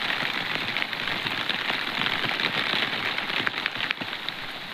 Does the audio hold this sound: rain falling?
yes